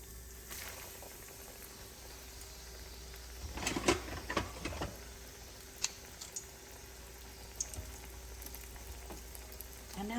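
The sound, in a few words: green tomatoes frying in hot oil in a skillet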